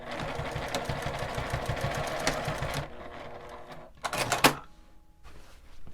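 A sewing machine bastes a D-ring onto fabric with a steady, close, rapid needle chatter that stops abruptly partway through, followed by a short burst of clicking and rattling.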